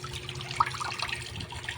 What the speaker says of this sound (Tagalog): Naririnig nyo ba? May kumukulong tubig.